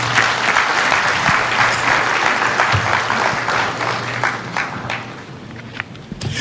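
An audience at a Guinean school closing ceremony applauds after a minister's speech, a loud, sustained round of clapping from a crowd that thins slightly toward the end, with no speech over it.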